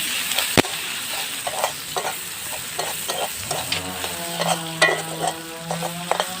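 Onions with a little salt frying for Yippee noodles, crackling and sizzling steadily under frequent spatula stirs and scrapes, close and without speech.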